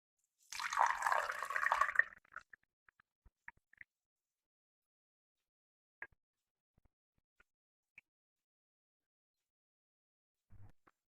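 A clove and milk drink is poured through a strainer, a short trickling splash of liquid followed by a few faint scattered drips and clinks, close and quiet with no talk.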